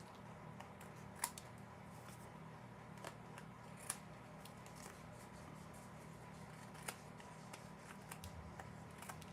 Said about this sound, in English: I'm going to just take the scissors and I'm going to trim the little bit that's hanging over